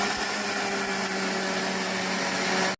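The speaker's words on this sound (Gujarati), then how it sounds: "દરદરું પીસી લીધું છે." Electric mixer grinder coarsely grinding soaked grain batter with yogurt for Gujarati handvo, a loud steady motor whine running without pause, then cutting off abruptly at the end.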